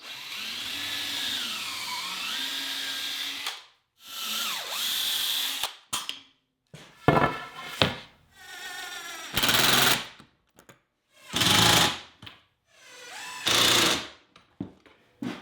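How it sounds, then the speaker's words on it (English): Old pneumatic Kreg Jig pocket-hole drill with a foot-pedal air clamp, several separate loud whirring drill bursts with sharp pneumatic hisses and clunks between them, some bursts rising and falling in pitch. "It's an old pneumatic Kreg Jig, and there's a little foot pedal on the floor."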